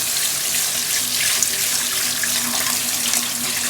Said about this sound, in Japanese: 冷たい水でぬめりを取ります